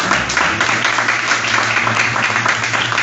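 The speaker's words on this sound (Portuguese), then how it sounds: "Aplauda o Senhor Jesus." A church congregation applauding during a Friday evening worship service, steady dense clapping that fills the room evenly for a few seconds with a faint hum underneath.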